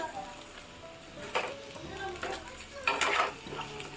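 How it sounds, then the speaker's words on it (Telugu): Drumstick pieces are stirred into frying onions in a pan, giving faint scraping and soft sizzling with a few louder clinks of a utensil against the pan. Sounds are close and quiet. "ఉల్లిపాయ ముక్కలు ఇప్పుడు లైట్గా వేగినాయండి దీంట్లోనే నేను ములక్కాయ ముక్కలను వేస్తున్నాను"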